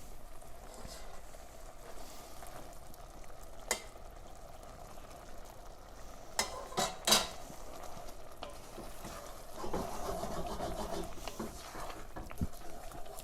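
Risotto is stirred in a pan, giving a soft bubbling and faint scraping with a few sharper clinks of the spoon against the pan, all fairly quiet and close.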